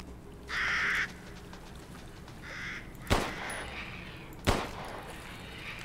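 A crow cawing in the video game Resident Evil Village: two drawn-out caws followed by two sharp, loud gunshots a little over a second apart.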